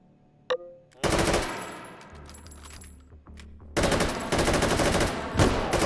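Compact automatic rifle fire in the VR shooter H3VR Take & Hold: a lone sharp shot, a short loud burst, then a long sustained stretch of rapid automatic fire near the end, with a low hum between.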